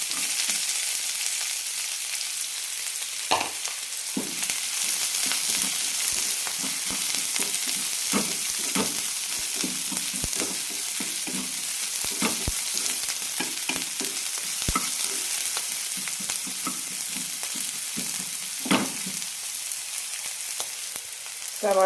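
Urad dal and chopped onion fry in oil in a pan with a steady, close sizzle, while a spoon stirs and clicks against the pan now and then.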